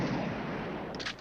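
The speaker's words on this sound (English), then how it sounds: "The soundtrack is just constant gunshots," Dense gunfire from a 1969 R-rated shoot-'em-up film, a continuous loud barrage of shots blending into a roaring wall of noise with a few sharper reports near the end.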